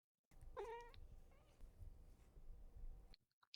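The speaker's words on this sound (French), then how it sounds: "et tu réalises que c'est un chat, un petit chat qui vient à ta rencontre." A small cat gives one clear, rising meow close by, followed by soft low rustling and handling noise before the sound cuts out.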